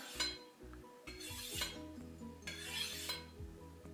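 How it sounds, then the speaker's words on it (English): Kitchen knife blade swept along a sharpening steel, three long rasping metallic strokes, each with a ringing clink at the start, close and clear against a faint low hum. "Use the whole length of the steel and get the whole length of the blade"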